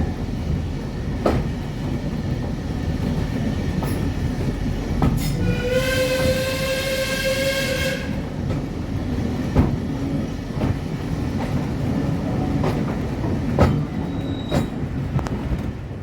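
Riding aboard a passenger train hauled by the steam locomotive Twizell on the Tanfield Railway, the carriage rumbles and clatters steadily over the rails, and a long whistle blast sounds for a couple of seconds midway.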